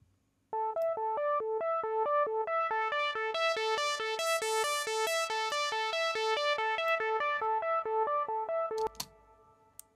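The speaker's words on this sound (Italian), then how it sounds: "Sentite in coda il delay" A mixed music track with delay and reverb, where a bright repeating synth-like melodic figure rings out in rhythmic echoes that swell and thin, then trails off into a decaying tail at the end.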